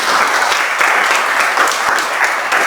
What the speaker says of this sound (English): Let's give all of our scholars another round of applause.